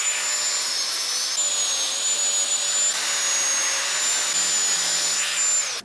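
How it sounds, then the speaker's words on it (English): An angle grinder removes flashing from a sand-cast aluminum part, a loud steady high-pitched whine with slight pitch wavers that holds for several seconds before stopping abruptly. "quick and dirty angle grinding to get the flashing away"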